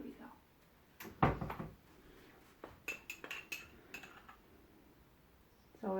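Cutlery clinks and a cupboard or drawer knocks in a home kitchen while someone fetches a spoon for Romanian chicken soup, a loud rattle followed by several short, scattered metallic taps.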